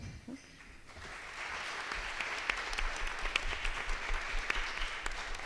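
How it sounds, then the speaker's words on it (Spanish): Audience applause breaks out for the participants at an academic colloquium, starting after a brief quiet moment and building into a steady, moderately distant clapping that continues to the end. "Les pido por favor que les den un aplauso."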